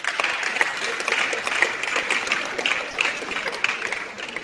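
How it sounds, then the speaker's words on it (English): An audience at a community meeting claps their hands in a steady crowd applause, a dense continuous patter of many hands at moderate volume lasting throughout. "very big hand clap."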